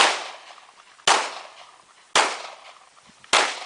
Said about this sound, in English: Now you're going to walk and shoot.